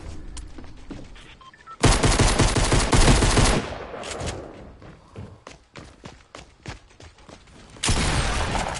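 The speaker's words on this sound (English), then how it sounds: "Wow, people are shooting at me." Rapid gunfire in a shooter video game, with long loud bursts of automatic fire, scattered single shots and thuds between them, and another heavy burst near the end.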